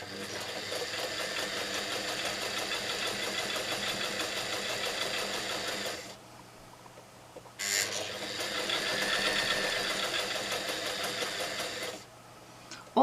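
An old sewing machine runs in two long stitching bursts through a canning mat, a steady close mechanical whir broken by a brief pause, with no talk over it.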